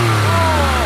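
Porsche 911 997 Carrera S with a rear-mounted 3.4-litre flat-six over 300 horsepower, revving hard and holding a loud, steady high-pitched engine note for about a second.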